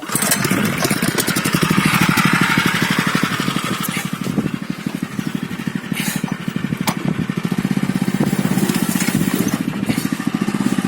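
A small self-propelled hiller engine runs loud and close with a fast, steady rapid-fire putter, its pitch rising and falling slightly as it works, and no talk over it.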